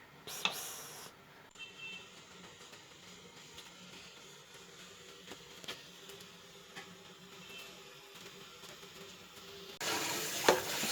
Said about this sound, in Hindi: अब मैंने इसको भूनना है।